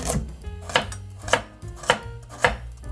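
A knife chops carrots on a cutting board in five or six steady, evenly spaced strikes, close and crisp, with no talking.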